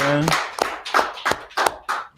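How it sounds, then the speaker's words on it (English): Hands clap in a steady rhythm at the closing of a Purim feast gathering, with about six crisp, evenly spaced claps in two seconds and no talk over them. "Clap it up for the sisters who cook the food."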